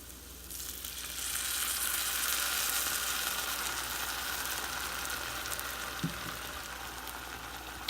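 Beef stock simmers and sizzles in a pan, a steady, fairly quiet frying hiss that holds evenly throughout with one small knock near the end.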